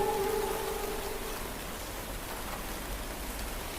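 Rain pours in a steady, soft wash of noise, even and continuous, with no voices.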